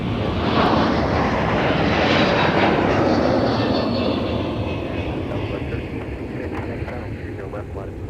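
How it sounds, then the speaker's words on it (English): A Delta Airbus A321neo jet takes off from MSP airport, a loud sustained engine roar that builds and then slowly fades as it climbs away. "So that was Delta 317 headed up to Anchorage. That was an A321 Neo."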